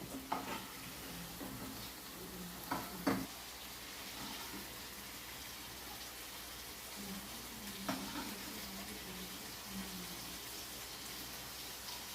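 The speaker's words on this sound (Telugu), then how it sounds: "ధనియాల జీలకర్ర పొడి one spoon garam masala powder వేసుకుని పచ్చివాసన పోయే వరకు వేయించుకోవాలి" Chicken liver pieces frying with coriander-cumin powder, garam masala and turmeric, a low steady sizzle with occasional soft spoon scrapes and taps in the pan.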